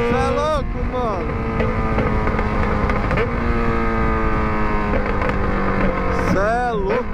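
A Yamaha XJ6 motorcycle with a 4-inch exhaust pipe being ridden, its engine droning loud and steady with rising and falling revs, plus a couple of sharp throttle blips.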